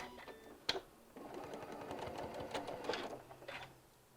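A sewing machine runs steadily while stitching a quarter-inch seam on bias-cut fabric, its soft rapid ticking needle rhythm close and quiet, with no talking.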